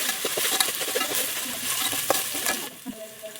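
Spoonful of ginger garlic paste sizzling loudly in a hot pan for dal khichdi, with steady frying hiss and quick stirring scrapes throughout, close and with no talking.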